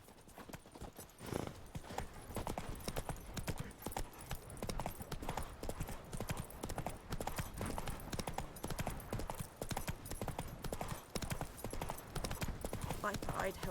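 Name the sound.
horse Roach galloping hooves, from video game Witcher 3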